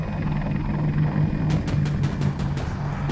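A military helicopter in the Battlefield 2042 video game thrums steadily with a low rotor rumble and faint rhythmic blade chop throughout, loud and continuous, with a few sharp ticking clicks in the latter half.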